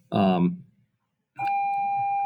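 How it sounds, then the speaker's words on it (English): After a short burst of a voice, a doorbell sounds with a single sustained, bright electronic tone that holds steady and loud to the end. "And that's my bell."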